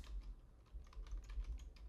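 Quick, light typing on a computer keyboard while a file name is entered in Windows, a short run of close, soft key taps with no talking.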